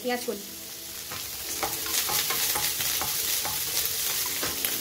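Broccoli stalks and spring onions stir-fried in a hot pan with garlic, a steady loud sizzle broken by repeated scraping stirs, close and continuous with no talking.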